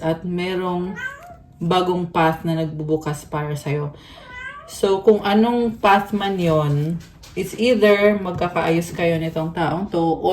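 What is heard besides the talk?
No everyday noises stand out.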